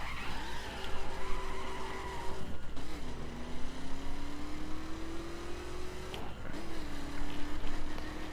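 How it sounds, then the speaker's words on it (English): A car in the video game The Crew drives with a steady engine tone that climbs through each gear, with abrupt shifts and a continuous loud tire skid and squeal throughout. "Just giving you all a little moment to listen to the car."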